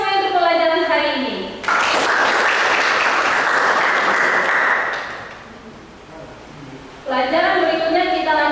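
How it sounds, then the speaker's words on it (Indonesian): A school class applauds at the end of a lesson, a dense burst of clapping lasting a few seconds that fades out, with a speaking voice before and after. "tepuk tangan semua untuk pelajaran hari ini"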